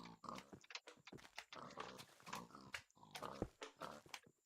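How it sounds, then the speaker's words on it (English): Repeated pig oinks and grunts from animals in the Minecraft video game, a steady run of short nasal calls at moderate level with no talking. "Excuse me, pigs."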